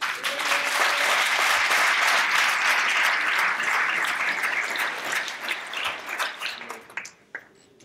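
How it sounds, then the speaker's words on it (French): Audience applause at a diploma ceremony, a dense, steady round of clapping from a full room that holds for several seconds, then thins into scattered claps and dies away near the end. "Et je vous demande donc d'applaudir Camille Lemoyne."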